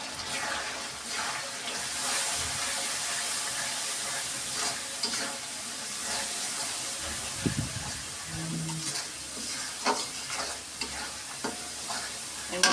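Masala frying with biryani spice in a pan, stir-fried steadily: continuous close sizzle with repeated spoon scrapes and clinks, a few louder knocks toward the end.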